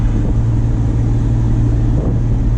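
A 1996 Ford Ranger XLT pickup engine hums steadily while driving, a low droning rumble with faint wind noise, continuous and close throughout.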